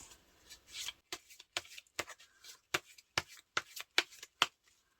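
A tarot deck is shuffled by hand in a series of about a dozen crisp, close riffles and taps, quiet at first and then coming in quicker bursts toward the end.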